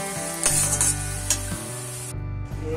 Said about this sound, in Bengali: রাইসের জন্য গাজর ভাজা হচ্ছে